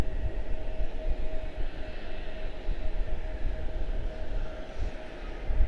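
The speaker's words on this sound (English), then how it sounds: "3054 to West Palm, American A321-231." An American Airlines Airbus A321-231 airliner at Charlotte-Douglas International rumbles steadily at a distance, a broad low engine roar with a faint tonal whine holding throughout.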